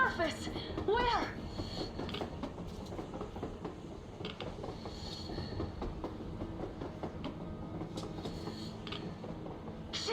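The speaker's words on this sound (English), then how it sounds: "A train! A damn train on the surface!" Train in the video game Metro Exodus rolls along rails with rhythmic clicking and rumbling, a brief squeal near the start and steady mechanical clatter throughout, with voices talking over it.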